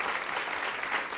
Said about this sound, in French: Est-ce qu'on peut applaudir encore bien fort Marie-Laure?